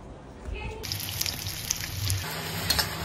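Dried chillies and spices frying in hot oil, a crisp sizzle and crackle that breaks out suddenly after a quieter start and then continues with scattered pops, while a voice talks beneath it.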